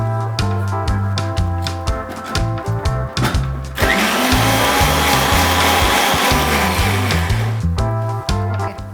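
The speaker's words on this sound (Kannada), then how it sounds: "ಇಷ್ಟು ತೊಗೊಂಡು ಸ್ವಲ್ಪ ನೀರು ಹಾಕ್ಕೊಂಡು ರುಬ್ಕೊಳ್ಳೋಣ" An electric mixer grinder blends green chili, cinnamon, cloves and a little water into a spice paste for paneer biryani, first in short loud pulses, then a continuous whirring run, then pulses again, with no talk.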